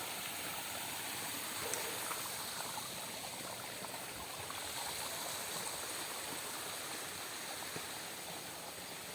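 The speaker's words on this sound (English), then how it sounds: "There's ski water flowing down because it was raining this morning as well as last night." Rainwater runs down a hillside slope on a hiking trail after rain, making a steady, close, trickling stream rush that continues evenly throughout with no voices.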